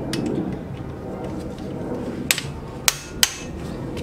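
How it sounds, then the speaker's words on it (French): An impact screwdriver set to loosen is struck with a hammer to free the brake disc screws on a Peugeot 407/508 or Citroën C5 front axle, giving three sharp metallic blows in a workshop over low background noise. "Donc, tournevis à frapper, on met en mode desserrage"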